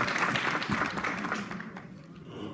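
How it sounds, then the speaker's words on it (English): Audience applause at a Democratic Party congressional district membership meeting, a dense burst of many hands clapping that fades over a couple of seconds, with faint talk underneath. "Let's give another round of"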